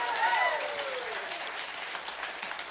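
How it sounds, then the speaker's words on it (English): A live in-studio audience at a music broadcast applauds: steady moderate clapping, with a brief voice heard at the start, then continuing evenly. "Give yourself a big hand."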